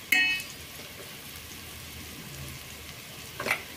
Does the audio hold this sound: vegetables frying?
yes